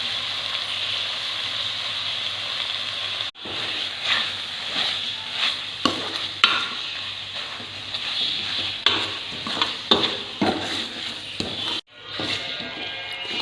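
A spoon stirs khadim pak mixture with ghee and milk powder in a kadai, giving a continuous sizzling hiss broken by repeated scraping strokes, close and fairly loud, with two brief dropouts.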